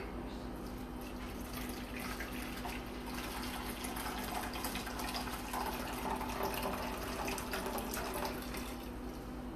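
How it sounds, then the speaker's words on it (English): Tea water poured from a kettle onto rice in a pot for tea-infused rice, a steady, soft splashing stream of liquid running for several seconds against a low background hum. "I pour that directly onto the rice and let it start the infusing process."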